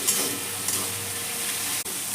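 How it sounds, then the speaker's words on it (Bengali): Taro stolons fry with spices and garlic in a pan as they are stirred, giving a steady, close, hissing sizzle throughout with no voices. "খুব ভালো করে আমি এটাকে নেড়ে নেব।"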